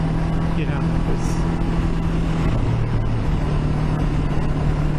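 Steady drone of a Honda CB500X motorcycle engine holding around 4,500 RPM, a constant hum with wind rush while riding a valley road, and someone speaking over it.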